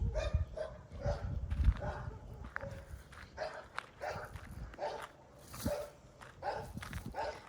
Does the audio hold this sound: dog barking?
yes